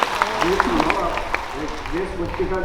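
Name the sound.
audience applause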